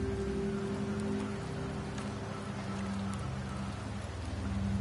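Steady rain falls in the Septimont area of the video game Wuthering Waves, a continuous even hiss of drops with a low ambient hum beneath and no talking.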